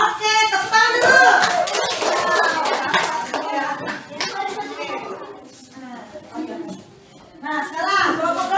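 A primary school class gives a round of hand clapping for a group during a geometry lesson, several short bursts of claps under a teacher's and children's chatter.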